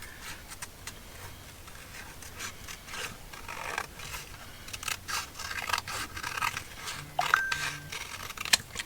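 An illustration is cut out of an old illustrated Edgar Allan Poe book with scissors, giving repeated close crisp snips and paper rustling in an uneven rhythm, growing busier toward the end.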